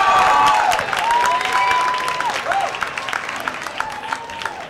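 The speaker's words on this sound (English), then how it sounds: "Make some noise, everybody." A comedy club audience applauds and cheers for a stand-up comedian, with a burst of clapping and whoops fading gradually while a voice talks over it.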